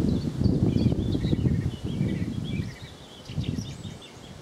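Several small birds chirp and trill faintly in the distance among gorse near Blakeney, Norfolk, over a low, gusty rumble of wind buffeting the microphone.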